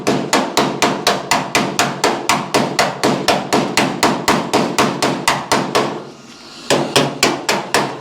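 A hammer strikes the steel body panel of a rare 1955 Chevy Nomad during paintless dent repair, about three sharp metallic blows per second, close and loud, with one brief pause before the steady pounding resumes.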